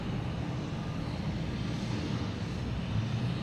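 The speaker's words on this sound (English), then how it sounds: "Lufthansa A340 coming in from Frankfurt." A Lufthansa Airbus A340 arriving from Frankfurt at Boston Logan rumbles steadily overhead, a dense low engine roar with wind buffeting, continuous and fairly close.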